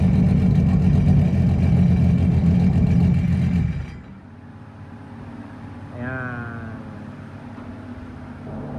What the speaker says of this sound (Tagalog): Medyo maingay dahil tanggal ang mga tambutso nito guys